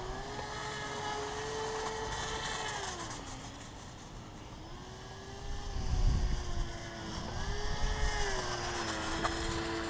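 A StevensAero WaterBoard airboat engine runs on snow, its loud propeller drone rising and falling in pitch as the throttle is worked. It stays steady throughout, with a rougher surge in the middle.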